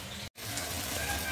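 Pisang uli bananas sizzle and crackle while frying in hot oil, a loud steady hiss broken by a brief drop-out near the start.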